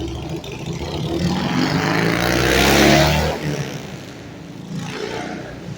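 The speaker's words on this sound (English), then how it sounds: "Salakia, let this motorcycle pass by. It's kind of loud." A loud motorcycle passes by on an outdoor street, its engine roar swelling to a peak midway and then fading as it moves away.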